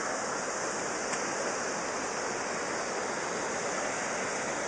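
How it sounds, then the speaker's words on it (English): Water pours steadily over a weir on the River Stort, between Harlow Mill and Harlow Town stations, making a loud, continuous broadband rush with no pauses. "This is the weir between Harlow Mill Station and Harlow Town Station"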